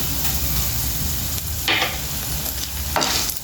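Stuffed brinjal (gutti vankaya) frying in oil with sesame seeds, a steady close sizzle throughout with a couple of brief scraping stirs, no voices.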